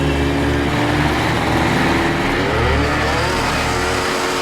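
A MythBusters jetpack engine revs hard and loud right up close in a continuous roaring drone, pitch shifting slightly as it climbs, then cuts off abruptly at the end.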